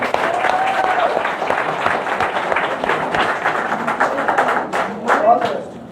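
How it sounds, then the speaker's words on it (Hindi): A crowd breaks into loud, sustained applause, steady clapping that swells slightly near the end. "सर के लिए एक बार जोरदार तालियां बजाएं"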